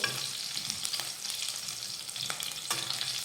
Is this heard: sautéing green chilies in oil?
yes